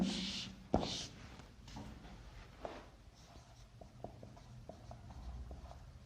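Writing on a board during a physics lesson, a sharp tap then a run of faint, quick scratching strokes close by in a quiet room, with soft background noise.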